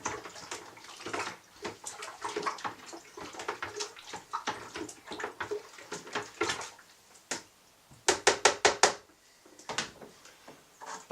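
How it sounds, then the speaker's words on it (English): A sterilized brewing spoon stirs mead in a bucket, giving a series of close, wet sloshing strokes at an uneven rhythm, then a quick burst of faster swirls near the end. "Sterilized brewing spoon. Give it a good mix to get it all in there."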